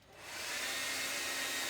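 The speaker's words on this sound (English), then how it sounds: "A hair dryer" A hair dryer switches on and swells within half a second into a loud, steady, close rush of blowing air that holds for the rest of the clip.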